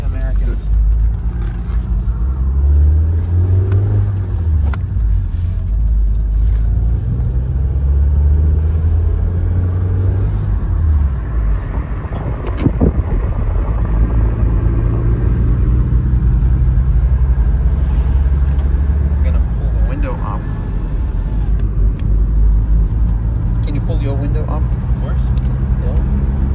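Toyota MR2 on the road, a loud steady engine and tyre rumble heard from inside the cabin with a continuous low drone, while someone talks over it.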